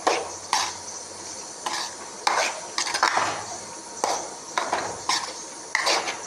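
Roasted gram, coconut, fennel and ginger-garlic paste being sautéed in a pan over medium heat for a rice vegetable kurma, with repeated scraping and clinking of a spoon against the metal pan in short bursts and a faint sizzle underneath.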